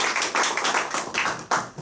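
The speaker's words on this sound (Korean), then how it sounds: "박수." Applause from the audience at a Korean ultrasound research society lecture, a brief burst of many hands clapping indoors, close and moderately loud, with uneven swells that fade and then surge again.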